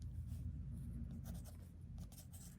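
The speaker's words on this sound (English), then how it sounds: "now I'm using a regular pencil" A regular pencil scratches on paper in short, close strokes, a soft continuous scraping with brief bursts of quicker marks during a portrait drawing.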